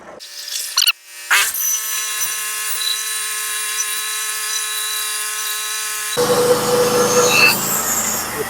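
A sawmill cuts through a big black oak log, a loud steady whine with a sharp tonal hum that runs on, then turns rougher and noisier as the blade bites deeper, after a brief start-up burst.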